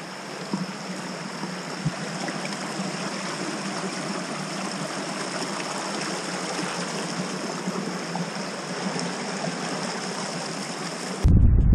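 A small tributary stream in Savage Gulf flowing steadily, a constant close rushing and trickling of water with no voices, ending in a sudden low thump.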